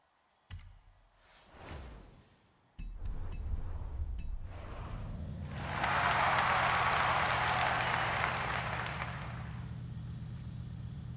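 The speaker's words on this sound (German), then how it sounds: "Danke, danke für den Applaus." Audience applause at a live comedy show, a few scattered claps at first, then a dense wash of clapping that swells, holds for several seconds and fades a little.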